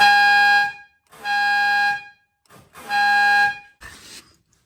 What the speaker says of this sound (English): It's got daggone air horns under there.